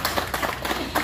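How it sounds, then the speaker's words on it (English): An audience at a Pacific pageant reception claps in a short, loose burst of brisk, fairly loud hand claps with no voices over it. "so you can clap for me."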